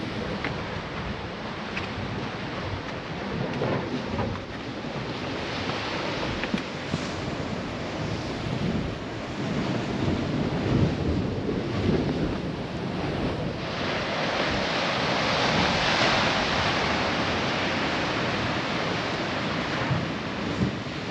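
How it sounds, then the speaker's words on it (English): Surf surges and splashes through a rocky coastal blowhole on a breezy Cape to Cape coastline in Western Australia, a continuous rumbling wash that swells louder toward the end, with wind buffeting the microphone throughout. "a little bit of splash from deep down in the blowhole"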